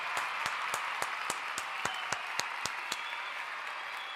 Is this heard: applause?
yes